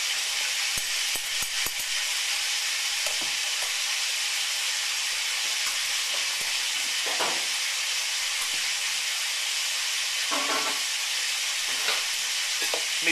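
Bacon frying in a pan, loud continuous hissing sizzle with sharp spitting pops and crackles throughout, close by and without speech.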